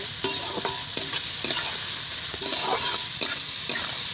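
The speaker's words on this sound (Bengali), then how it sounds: "শুধু নুন দিয়েই এটা আমি ভেজে নেব।" Carrot slices with salt frying and being stirred in a pan, a steady soft sizzle broken by regular scraping strokes of the spatula, close and alone.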